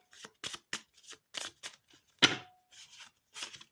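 Tarot cards being shuffled by hand, a series of short, crisp riffling bursts with small gaps between them and one louder snap midway, close-up and clear, with no talking over them.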